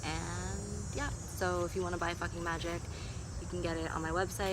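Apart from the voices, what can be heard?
cicadas singing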